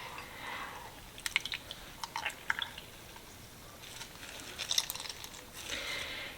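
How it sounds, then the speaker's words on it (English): Soaked Italian bread is squeezed by hand to press out milk for meatballs, making soft, close squishing and crackling sounds in scattered bursts with quiet gaps. "now I'm going to squeeze out the milk"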